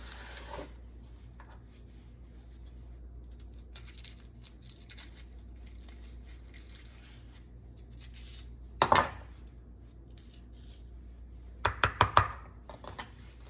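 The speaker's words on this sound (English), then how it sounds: "I'm just going to cut it along the middle and open up the pepper" A knife cuts peppers in half on a cutting board, with a single sharp chop and then a quick burst of several knocks against the board over a quiet kitchen background.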